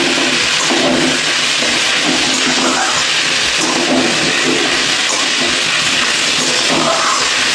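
Banana stem stir-fry (thor chechki) fries in a pan, giving a steady, fairly loud broadband sizzle and hiss that carries on without a break and without talk.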